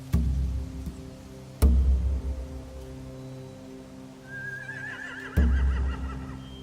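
Horses in The Walking Dead video game give a rising, wavering whinny near the end of the clip. Several heavy low thuds come before it, and the scene has a dull ambient hum behind it.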